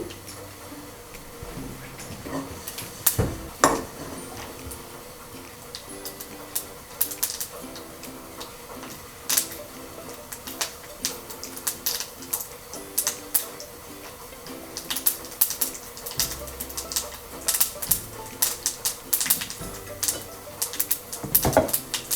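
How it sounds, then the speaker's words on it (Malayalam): Mustard seeds crackle and pop in hot oil, a steady stream of sharp, irregular snaps close by, some louder bursts standing out over a low sizzle. "കടുക് പൊട്ടി തുടങ്ങി."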